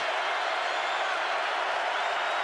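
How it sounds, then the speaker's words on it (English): A football stadium crowd at a 2005 Steelers vs Colts game roars as one steady, dense, fairly loud wall of voices, with no breaks. "Crowd gets a little nervous."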